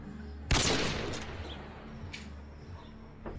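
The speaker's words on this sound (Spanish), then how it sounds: "Escucho disparos." A sharp, loud burst of video game gunfire opens the clip, followed by a fading reverberant tail and a few fainter distant shots.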